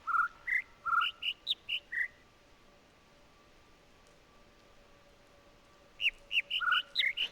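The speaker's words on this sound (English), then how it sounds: "So I've been following the super quick bird" Bird song in The Witness video game: two bursts of quick, high chirping notes, one at the start and another near the end, with a faint steady tone and quiet ambience between, no talking.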